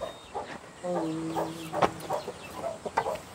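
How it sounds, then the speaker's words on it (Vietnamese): A chicken clucks close by inside a house, giving a few short, fairly loud calls with some faint background noise. "Sao con gà đi chơi vào nhà đấy?"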